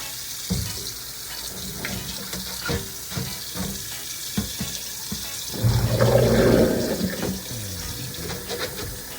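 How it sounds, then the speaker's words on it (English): Tap water runs into a cooking pot holding washed meat, a loud rushing gush near the middle, with scattered clatter and handling noises around it and no talk. "I'm going to fill the pot with water, just enough water to cover the meat."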